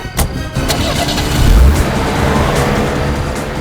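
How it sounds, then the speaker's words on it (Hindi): A car in a crime drama engine scene speeds off, its engine surging loudly and steadily with a low rumble swelling midway, close and continuous throughout. "गाड़ी तेज चलाओ"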